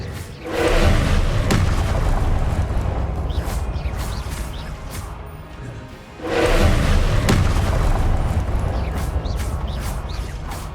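Two heavy, booming blasts from the Confringo spell in Hogwarts Legacy, each hitting hard and then rumbling out over several seconds, the second arriving about six seconds after the first.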